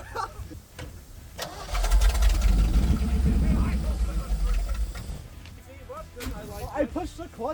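A 1956 Chevy engine, unrun for 20 years, cranks, catches and revs with a deep rumble through its exhaust, rising and falling a few times while a voice speaks over it.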